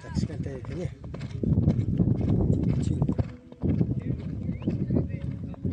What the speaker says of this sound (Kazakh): 3-ші айналым аяқтап келе жатыр мына көк ат.